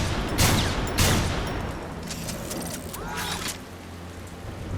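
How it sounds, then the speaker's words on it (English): A neutron assault rifle fires in Transformers: War for Cybertron, loud broadband blasts around the first second followed by a rapid burst of shots and fading mechanical clatter, without talk. "He, of course, comes with his typical neutron assault rifle, as well as the Energon blaster pistol."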